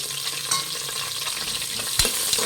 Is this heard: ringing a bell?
no